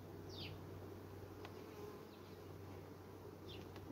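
Honeybees droning steadily at a hive entrance, a continuous close buzz with a few individual bees flying past nearer the ear.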